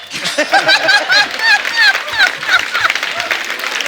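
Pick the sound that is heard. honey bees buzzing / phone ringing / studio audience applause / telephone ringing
studio audience applause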